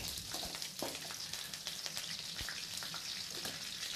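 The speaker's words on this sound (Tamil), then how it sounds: "அடுத்தெடுத்து வச்சுருக்கிற காஞ்ச மிளகாவும் போட்டுடலாம்." Dried red chillies frying in oil for potato rice, a faint, steady crackling sizzle with scattered sharp pops throughout, heard alone without talk.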